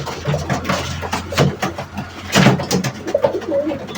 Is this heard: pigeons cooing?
yes